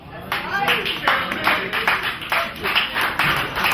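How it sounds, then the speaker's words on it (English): Scattered hand claps from a small audience at a live comedy-style show, sparse and uneven, a handful of bursts over a couple of seconds with a voice talking over them. "I see maybe 1 or 2 of y'all clapping."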